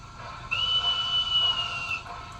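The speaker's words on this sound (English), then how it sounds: "It's your conductor whistle" A thin, steady conductor whistle sound from the Zimo sound decoder of an LGB 2180 model locomotive rings out for about a second and a half over a faint mechanical hum, with no talking.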